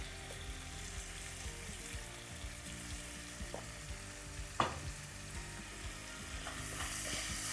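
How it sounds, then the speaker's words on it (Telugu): Chopped onions with dried fenugreek leaves (kasuri methi) fry in hot oil for Hyderabadi khichdi, a steady close sizzle with a soft clatter of stirring midway and no talking. "ఇవి నూనెలో మంచిగా వేగాలన్నమాట"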